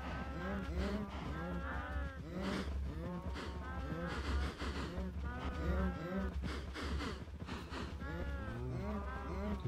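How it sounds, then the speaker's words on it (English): Cows mooing in the Minecraft modpack Agrarian Skies, many overlapping game moos crowding together loudly and continuously over a low steady hum. "That's a more healthy number of cows"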